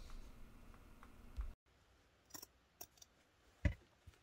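A few soft snipping clicks of scissors, sparse and close, in near silence after a brief burst of background noise.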